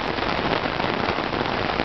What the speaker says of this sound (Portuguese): Chuva de verão, chuva de janeiro.